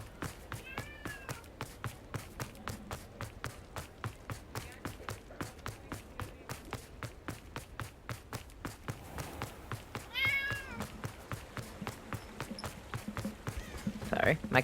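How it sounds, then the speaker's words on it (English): A house cat meowing close into a gaming microphone, a few short meows scattered over steady rhythmic game sounds, fairly faint overall. "my cat meowed in the mic"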